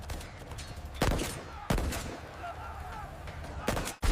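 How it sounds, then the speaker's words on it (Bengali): Several sharp, loud gunshot bursts ring out at irregular intervals, bullets striking a shield, the last cut off abruptly, over a rumbling, tense background. "গুলি লাগলো শিল্ডে, টাং"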